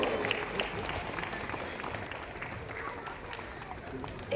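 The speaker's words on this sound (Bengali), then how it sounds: "আপনাকে বরণ করার সময় জোরে হাততালি হোক" Applause from an audience at a school anniversary ceremony in West Bengal, a broad, fairly soft wash of clapping that holds steadily throughout, with a voice faintly audible underneath.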